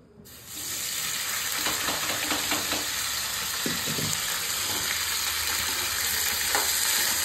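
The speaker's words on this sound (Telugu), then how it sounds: "ఇప్పుడు మనం వడగట్టి పెట్టుకున్న కాలీఫ్లవర్ దాంట్లో వేసుకొని వేయించుకోవాలండి." Cauliflower frying in oil in a pan for a masala curry gives a steady, dense sizzle throughout, with a few stirring clatters over the hiss and no talking.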